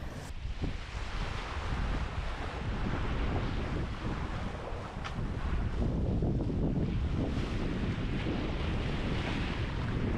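Strong wind roars across the microphone on a sailboat at sea in 12 to 15 knots of breeze, with water rushing and splashing along the hull. The noise is constant and loud throughout.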